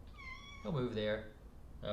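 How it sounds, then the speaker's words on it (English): A cat meows clearly with rising and falling tones at close range, followed by a second shorter meow near the end, while someone talks over the background. "that was my cat"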